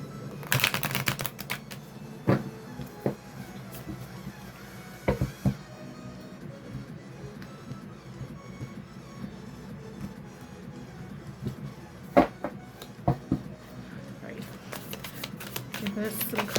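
A deck of tarot cards is shuffled in short, crisp riffling bursts scattered between stretches of quieter handling, with a voice talking throughout.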